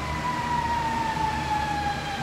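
Emergency vehicle siren from a fire truck or ambulance passing near an RV park by a highway, a steady wailing tone sliding slightly in pitch over road traffic rumble, fairly loud with no one talking.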